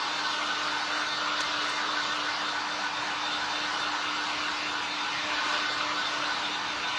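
A hair dryer blows steadily to dry a fresh gelli plate print on paper, a constant broadband rush with a faint steady hum underneath, holding at even loudness throughout with no talking.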